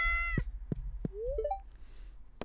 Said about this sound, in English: Oh, pet the cat.